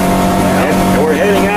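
A boat engine drones loud and steady close by while heading out through the Mackenzie Delta near Inuvik, with voices talking over the constant rumble.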